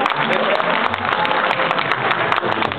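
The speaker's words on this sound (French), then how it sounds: "J'ai oublié encore une fois de l'applaudir très fortement." Applause from a crowd at a UFDG political rally in Paris runs continuously under a speaking voice, a thick, even wash of clapping with scattered sharper claps poking through.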